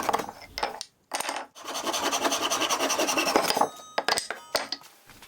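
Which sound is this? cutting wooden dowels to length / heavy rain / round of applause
cutting wooden dowels to length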